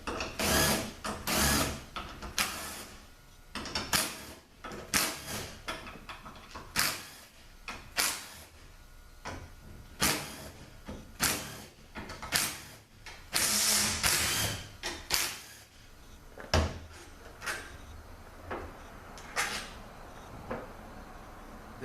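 Metal parts of an automatic transmission valve body being taken apart, giving a long run of clicking, ratcheting and clattering mechanical knocks at irregular intervals, close up with no talking.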